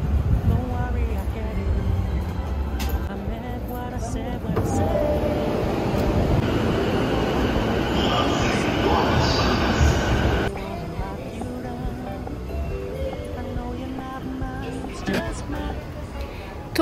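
A train at a busy Tokyo station platform, with a steady broad rumble and rail noise that drops in level partway through and continues more quietly, while people's voices murmur underneath.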